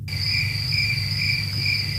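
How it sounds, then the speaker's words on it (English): Crickets chirp steadily and alone in a quiet night setting, a continuous high trill with a faint low hum underneath and no talk. "Crickets."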